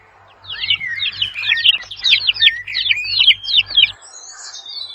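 A chick chirps in a rapid string of high, thin peeps, close and fairly loud, for about three seconds before stopping.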